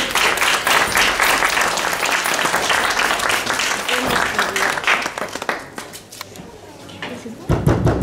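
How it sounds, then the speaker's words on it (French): Loud, dense applause from an outdoor audience greets the start of a play at a medieval festival in Vaxoncourt. The clapping thins out after several seconds, then a brief burst returns. "On les applaudit."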